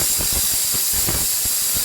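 A loud, continuous hiss of steam venting from a pressure cooker cooking beef, steady and close, with a faint rattling texture underneath and no voices.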